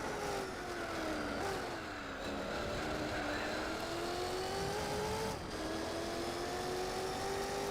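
A Ford GT40 race car in Gran Turismo 4 drives at sustained speed, its engine note droning and rising through gears with brief dips at shifts, steady and moderately loud throughout, with faint talk underneath.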